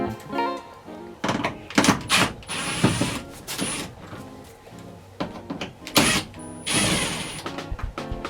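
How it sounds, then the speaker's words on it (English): Screws come out of the AC ducting inside a Toyota Coaster bus during a conversion strip-out: bursts of close power-driver whirring and ratcheting, separated by short clunks and handling noises, no talk. "Alright, now we're going to remove the AC ducting. Just start by taking out a few screws."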